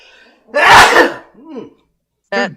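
One loud, close sneeze erupts, followed by a short breathy aftersound and then a brief bit of talking.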